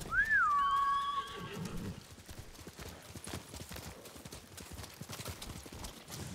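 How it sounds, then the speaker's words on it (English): A horse in the Ghost of Tsushima video game gives one clear rising whinny, followed by a steady run of soft hoof clip-clops, fairly quiet, with occasional faint speech. "You're a good horse."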